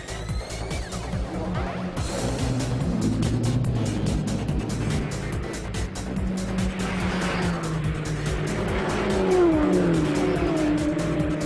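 Lexus IS-F racing around the Nurburgring in the video game Gran Turismo 5, its engine droning loud and steady with rising and falling revs, shifting pitch and brief tire squeals throughout.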